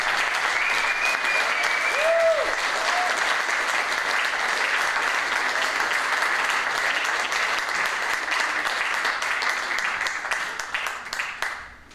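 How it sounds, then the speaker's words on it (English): Sustained applause from an audience welcoming a panel discussion's panelists, steady dense clapping filling the room for about eleven seconds before tapering off at the end. "Can you please give them a round of applause?"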